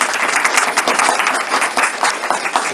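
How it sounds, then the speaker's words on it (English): Audience applause at a birthday celebration in a cultural center, a sustained, dense wash of many hands clapping, loud and close with no talk over it. "Big round of applause, please."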